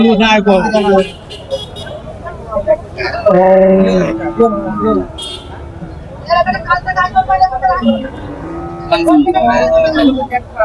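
A cow moos loudly several times at a rainy cattle market, long drawn-out lows amid a busy crowd with people talking and a vehicle horn tooting nearby.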